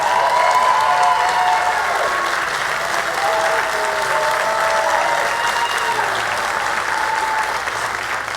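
A church congregation applauds and cheers for newlyweds Jeff and Ashley Stevens right after a wedding pronouncement, with dense, steady clapping filling the room and a few voices calling out within it.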